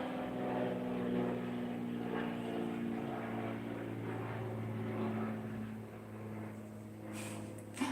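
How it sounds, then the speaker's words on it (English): A propeller airplane drones overhead with a steady low hum that slowly fades toward the end, ending in a brief knock. "Can you hear the plane?"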